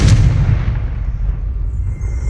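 A Confringo fire spell blasts in Hogwarts Legacy, one loud booming explosion at the start that rumbles and fades away over the next two seconds.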